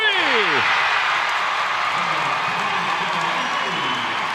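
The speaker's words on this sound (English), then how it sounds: "Mitchell crowd coming alive" Loud crowd cheering and roaring at a girls' state AA high school basketball tournament game, a dense sustained wave of voices with a brief whistle-like rise at the start, continuous throughout.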